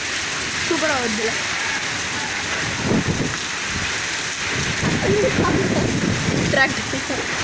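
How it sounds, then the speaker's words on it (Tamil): Heavy rain falling in Gudiyattam, a constant loud hiss of downpour filling the scene, with people talking and a few low rumbles underneath. "சரியான மழை"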